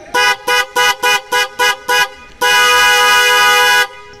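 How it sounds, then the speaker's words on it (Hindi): Hella TwinTone horns fitted to a Baleno give seven short, loud, evenly spaced blasts, then one long sustained honk of over a second, close and alone. "सो अब हॉर्न्स को चेक करते हैं एक बार"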